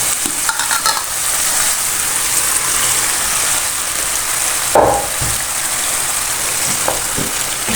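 Mashed carrots stirred into a pan of sizzling masala, a steady close frying hiss with scraping spoon strokes and a few sharper clinks of utensil against the pan.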